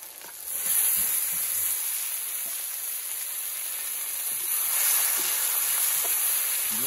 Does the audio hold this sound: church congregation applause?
no